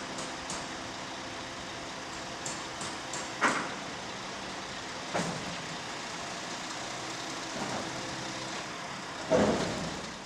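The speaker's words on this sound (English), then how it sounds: "The silo is empty, so a truck has come to take the silo away." Truck removing an empty silo, heard as a steady engine rumble with several separate clunks and hissing bursts spaced through the clip, fairly close and without voices.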